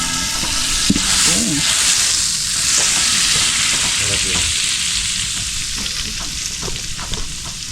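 Fermented rice (buro) sautés in a hot pan, producing a loud, dense sizzle with stirring clinks and scrapes throughout while a few muffled voices talk underneath.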